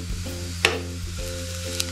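Onion, garlic and ginger sizzle and fry in a pan for masvadi filling, a steady close crackle with a few sharp pops and stirring scrapes, no voices.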